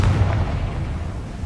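A Confringo fire spell bursts in a Hogwarts video game, a deep, heavy boom that hits at once and then rumbles and fades over a second and a half.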